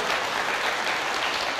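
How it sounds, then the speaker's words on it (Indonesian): A church congregation claps during a sermon, a brief, even wash of dense applause from many hands with no voices on top. "Berikan tepuk tangan yang meriah."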